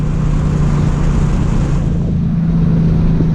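A manual car pulling away hard after the clutch is dropped, its engine a loud steady drone with a sustained low tone and wind buffeting throughout, no talking.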